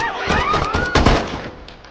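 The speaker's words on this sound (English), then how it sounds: "Smoke arrived in time to witness this, shooting Mary multiple times" Gunshots in a movie scene: a loud, dense burst of gunfire cracks with a sharp peak near the middle, mixed with a rising whine and action-scene sound effects, and no speech.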